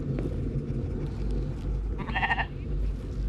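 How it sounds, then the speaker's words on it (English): A single clear goat bleat in the video game D-Extinction cuts through a constant low ambient rumble, wavering for about half a second before fading. "Yes, it's a goat."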